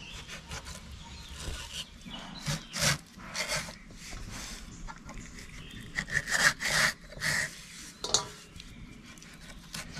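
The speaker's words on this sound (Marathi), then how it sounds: "आई इकडे आंबे कापते आहे" Ripe mangoes are cut with a knife in a home kitchen while making traditional Konkan-style mango poli: irregular scraping and rubbing strokes with occasional clinks of utensils, close and fairly clear.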